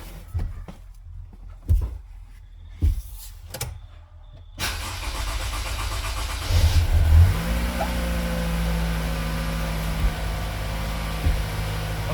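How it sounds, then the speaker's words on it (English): A Toyota Camry sedan with a 2.5-litre 2AR-FE four-cylinder engine cranks and starts after a few clicks and knocks, briefly revs, then settles into a steady close-up idle. "car is running fine"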